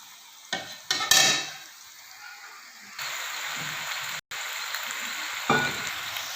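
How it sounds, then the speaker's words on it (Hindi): Vegetables for a pulao are fried in a pot, with a few sharp stirring clatters early on, then a steady moderate sizzle that continues, briefly cut off, to the end without talk. "तकरीबन हम 5 से 7 मिनट इन सारी चीज़ों को फ्राई करते हैं।"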